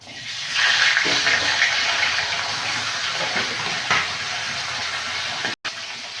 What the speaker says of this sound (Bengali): মাথাগুলো ভেজে নেবো